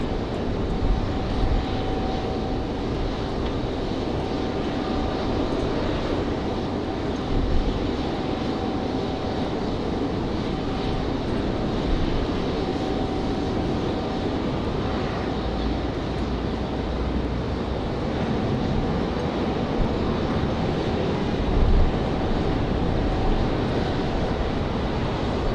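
A Sun Country airliner at Raleigh-Durham airport, its steady broadband engine roar holding loud and continuous throughout, with a faint tonal whine running on top and no voices.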